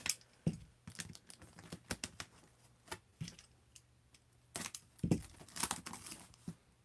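Cutting open the plastic packaging on a G.I. Joe Classified HasLab Dragonfly toy box: irregular crinkling, snipping and tearing, close and quiet, with several louder crackling bursts and no talking.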